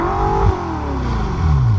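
Revving from a 2016 BMW M5 with a 4.4-liter twin-turbo V8, a loud close engine note whose pitch swings up and falls back, then climbs again near the end, with no talking over it.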